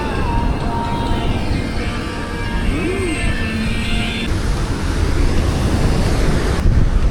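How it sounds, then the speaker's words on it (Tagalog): Ocean surf washes onto the shore at night, a broad, continuous rush of waves mixed with strong wind noise across the microphone, steady and fairly loud throughout. "Pakita ko sa inyo kung gaano kabait yung mga alon dito."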